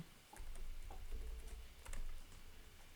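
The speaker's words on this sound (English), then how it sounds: "let me type it in" A few quick bursts of clicking keys on a computer keyboard, light and close, with short pauses between runs and no speech.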